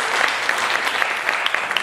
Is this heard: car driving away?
no